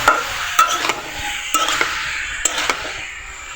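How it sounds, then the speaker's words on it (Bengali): A spatula stirs chopped onion and split green chilies in a pan for a snake gourd stir-fry, with a few sharp scrapes and clinks against the metal over a soft background sizzle. "পেঁয়াজ কুচি ও কাঁচামরিচ দুই ভাগ করে কেটে রাখা চুন্নির সাহায্যে দুই মিনিট এভাবে নাড়াচাড়া করতে হবে"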